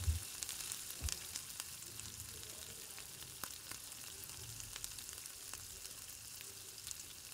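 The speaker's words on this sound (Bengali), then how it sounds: "এবার পেঁয়াজটা দিয়ে দিচ্ছি" Onion frying in oil tempered with cumin and a chili, a faint steady hiss of sizzling with a few soft clicks and light stirring noises, quiet and with no voices.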